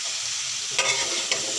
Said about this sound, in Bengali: ঢেঁড়স দিয়ে দিলাম